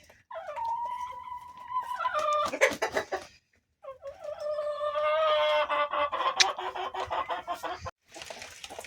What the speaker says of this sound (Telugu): కాకి పెట్టమారు పుంజు అయితే చాలా బాగుంది